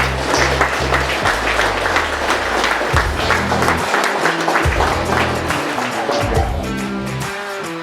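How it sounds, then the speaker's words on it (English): Guests at a Waikato Shed Company 20-year business celebration give a big round of applause, dense sustained clapping from a crowd with music underneath, tapering slightly toward the end. "Got a big round of applause"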